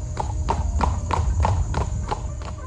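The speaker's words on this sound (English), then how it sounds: "After the wedding, Devaki's brother Kamsa drove them home on a wonderful golden chariot." Horses pulling a golden chariot: steady, rhythmic clip-clop of hooves, roughly three beats per second, close and clear over a low rumble, with no talk.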